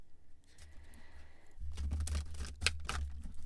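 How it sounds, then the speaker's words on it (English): Oracle cards being shuffled by hand, soft papery riffling and flicking that grows busier, with quick crisp card slaps near the end, close and fairly quiet. "I'm going to keep shuffling until I pull one."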